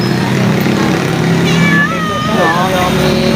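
A purebred cat that roams outdoors gives several close, wavering meows that rise and fall, heard over a steady low hum while people talk nearby.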